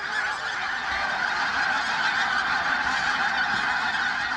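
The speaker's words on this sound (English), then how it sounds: "several thousand of them, as you saw, just flew overhead" A large flock of pink-footed geese honks continuously overhead at Martin Mere, a dense, loud, steady clamor of many overlapping calls with no voices.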